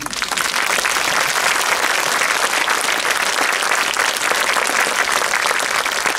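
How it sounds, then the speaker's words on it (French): Sustained, dense applause from a conference audience, even and continuous from start to finish with no talk over it. "vos applaudissements d'abord, merci"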